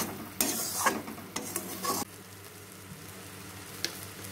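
Spinach paste being fried with spices in a pan, stirred briskly: bursts of scraping and sizzling over the first two seconds, then a quieter steady sizzle with one faint scrape near the end, no voices.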